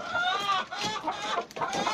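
Village mixed-breed hens cluck in a short run of soft, repeated calls, fairly close, with a faint voice murmuring in the background.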